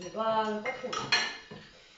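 Dishes, glasses and cutlery clink and knock close by as a dishwasher is unloaded at home, a string of sharp clatters with a brief voice at the start.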